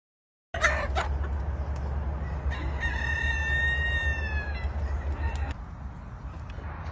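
A rooster crows loudly and close by, with chickens clucking around it while eating a cookie treat, over a low background hum.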